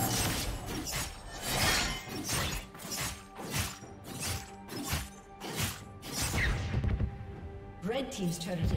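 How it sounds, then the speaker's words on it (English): In League of Legends, a turret is destroyed with a rapid series of loud crashing, shattering blasts in a pulsing rhythm, then a short lull and a final burst. "Red team's turret has been destroyed."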